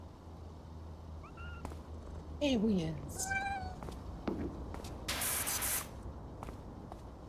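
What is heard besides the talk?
cats meowing in video game PowerWash Simulator 2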